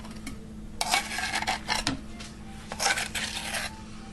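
A stainless steel spoon scrapes and clinks against a jar while sourdough starter is scooped in, with several quiet bursts of metallic scraping separated by short pauses.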